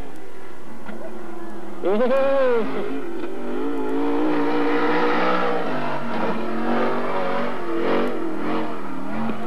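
A sprint car engine runs on the Magic City Speedway dirt track in Billings, Montana, revving loud and close with rising and falling pitch across several seconds after a quieter start.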